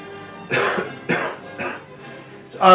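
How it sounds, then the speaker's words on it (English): Several short, close coughs in a row, spaced about half a second apart, with a throat-clearing quality and no talking. "Let me cough real quick."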